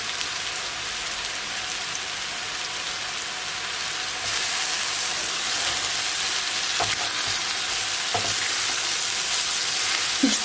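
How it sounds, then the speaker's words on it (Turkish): A piece of butter sizzles steadily in a pan for haluj, a constant rain-like frying hiss that grows louder partway through, with a few faint utensil taps and no talking. "Şimdi ben şöyle bir parça tereyağı attım."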